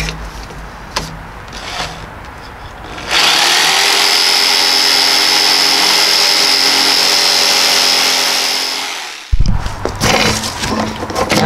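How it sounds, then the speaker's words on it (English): A jigsaw cuts through wood for a homemade deer feeder, a loud steady buzzing whine lasting about six seconds before stopping abruptly, with brief handling noises before and after. "I'm gonna use this jigsaw,"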